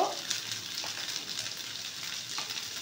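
Ginger-garlic paste hits hot oil for a yogurt prawn curry, producing a close, steady sizzle with soft stirring scrapes and occasional louder spits, and no one speaking.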